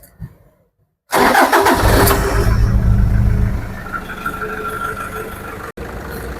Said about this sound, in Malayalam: വണ്ടി സ്റ്റാർട്ട് ചെയ്ത് ഇതിൻ്റെ സൗണ്ട് ഒന്ന് കേൾക്കാം